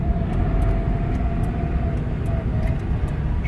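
A GSpecial vehicle's engine downshifts while driving, a steady close rumble of motor and road noise holding through the brief moment without a clear rev change.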